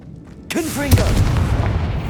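A Confringo fire spell in Hogwarts Legacy bursts with a sudden booming blast, followed by a second sharp impact and a rumbling tail, with a voice calling out over it.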